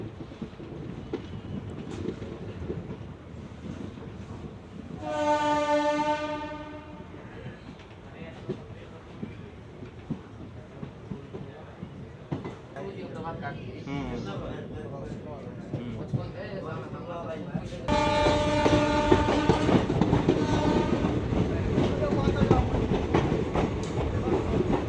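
The Mithila Express passenger train from Howrah to Raxaul rolls along after its locomotive is coupled, with rail clatter and wind noise under a speaking voice and two long, loud multi-tone horn blasts.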